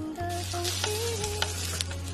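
Suzhou-style fresh-meat mooncakes cook in a preheated, lidded electric griddle pan over medium heat, giving a steady close sizzle over a constant low electrical hum, with no voices.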